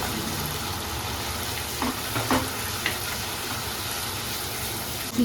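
Green chilies hit a pan of frying spice paste for a potol posto dish, giving a constant soft sizzle with a few faint stirring clicks and pops.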